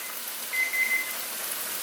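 A kitchen timer gives a short run of thin, high electronic beeps, fairly faint against a steady hiss of background noise.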